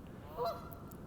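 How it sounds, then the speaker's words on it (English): A single short goose honk, faint and distant, over steady outdoor background noise. "Makes a very recognizable honking sound."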